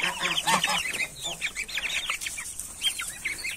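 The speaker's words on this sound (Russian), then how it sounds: "Ну, цыплят вывели, вынесли на улицу погулять." Young chicks and fowl taken outdoors for a walk, with a busy chorus of high peeping cheeps and soft clucks close by, repeated in quick irregular bursts at moderate volume.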